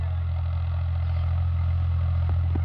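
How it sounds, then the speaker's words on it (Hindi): An HMT 35 HP tractor pulls a 10-disc harrow across a farm field, its engine a steady, close, low drone with light mechanical clatter and no talk. "आज हम 35 वाई ट्रैक्टर HMT 35 वाई जो कि 35 HP का ट्रैक्टर है, इसमें हम हैरो चला रहे हैं जो कि 10 डिस्क का है।"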